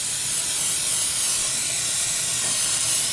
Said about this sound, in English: We're going to spray them with the nonstick vegetable spray.